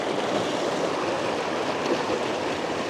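Mountain river in Ladakh flowing close beside a rocky hiking trail, a steady, loud broadband rush of water that fills the whole clip without pause and with no voices.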